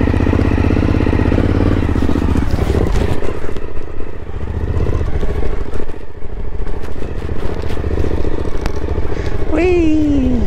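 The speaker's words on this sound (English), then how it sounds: "So I just bring the bike sort of in a circle around and I pick you up over there." A motorcycle rides in a circle on a motocross campsite, its engine rumbling and revving with clattering and scraping. The engine climbs sharply in pitch near the end, and a person talks during the clip.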